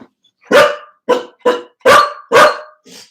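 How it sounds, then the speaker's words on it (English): A dog barks five times in a loud, fairly even rhythm, close by, then gives one softer, shorter final bark. No one speaks. "You don't have to bark."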